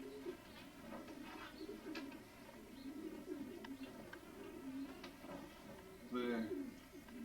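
Pigeons coo in a low, throaty chorus inside a loft, soft overlapping calls close by with occasional higher chirps and faint voices in the background.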